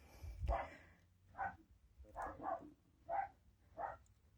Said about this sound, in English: that's my dog just eating the front door